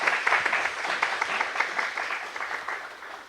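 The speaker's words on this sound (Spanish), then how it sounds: "démosle un aplauso para la bienvenida al doctor Mauricio, por favor." An audience applauds to welcome a speaker at an academic colloquium at a Chilean university, with dense, steady clapping throughout the short stretch that fades slightly toward the end.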